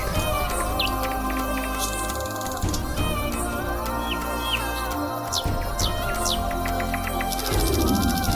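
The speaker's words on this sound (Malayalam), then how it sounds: "കഴിഞ്ഞ ദിവസവും ഈ കിളി ശബ്ദം ഉണ്ടാക്കിയില്ലേ?" A bird calls with several short, rising chirps and whistles, scattered through the scene over continuous background music, fairly clear but mixed in rather than alone.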